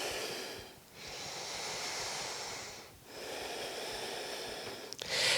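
Slow, deep breaths held during a yoga stretch after a run, each long inhale and exhale audible close up in a steady rhythm, with a short sharp noise near the end.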